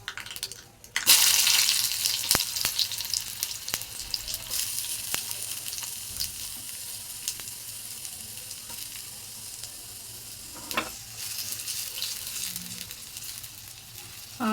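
Onions dropped into hot oil in a pan for mango curry burst into a loud sizzle that settles into a steady, close frying hiss, with occasional clicks and stirring sounds.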